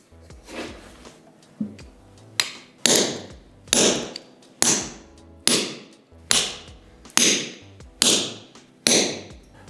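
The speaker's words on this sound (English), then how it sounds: "The angle of the chisel was pretty high and the blows were quite strong." Hand hammer striking a round chisel into stone, a dozen sharp, loud metallic blows in a steady rhythm, each ringing briefly before the next strike.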